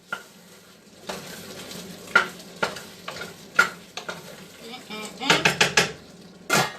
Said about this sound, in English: And I'll give that a stir.